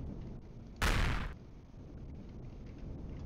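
A thruster is blown up in the space game Empyrion Galactic, a single short loud burst that stands out sharply against quiet background hum.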